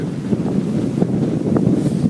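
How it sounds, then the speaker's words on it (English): Strong wind at sea off Okinawa with a typhoon nearby, a loud steady roar buffeting the microphone with gusty rumbling throughout. "So let me just give you an idea of the winds."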